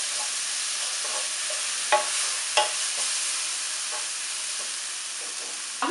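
Salted masala mixture for a fish omelette sautés in a pan with a steady, bright sizzle, broken by a few sharp scrapes and taps of the spatula. No one speaks.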